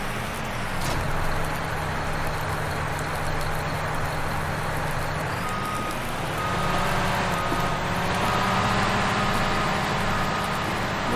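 A Cat 420F backhoe loader, readied for snow plowing, runs with a continuous diesel drone that shifts pitch midway as it moves, close and steady, with no one talking.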